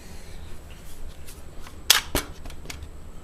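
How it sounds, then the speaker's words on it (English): An AR-15 rifle's magazine release clicks sharply twice in quick succession, a metallic snap followed by a second knock, close and otherwise quiet. "Mag release works."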